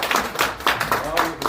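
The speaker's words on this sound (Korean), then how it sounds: "박수 한번 치고 갈게요" At a community group's monthly gathering, audience members clap their hands together in uneven bursts, several distinct claps rising and falling while voices speak over them.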